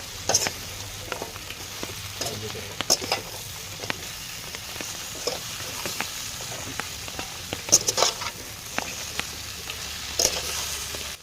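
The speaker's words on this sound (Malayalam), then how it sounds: "ഇനി ഇത് നല്ലവണ്ണം ഒന്ന് ഇളക്കി മിക്സാക്കുക." Chicken kondattam masala is stirred in a frying pan: a steady sizzle of frying runs throughout, broken by irregular scrapes and clinks of the spoon against the pan, close and fairly loud, with no talking.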